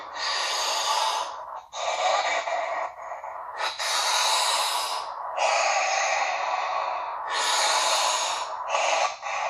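A voice imitates heavy breathing, with long, loud, rasping breaths in and out. They come in a steady sequence with brief gaps between them.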